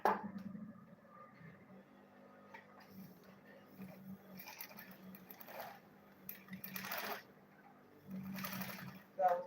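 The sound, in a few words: sewing machine stitching a lunch bag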